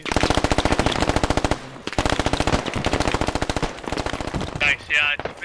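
Rapid automatic rifle fire in the military shooter game Squad, long sustained bursts of close, loud shots with brief pauses between strings, ending in a few heavier, separate blasts.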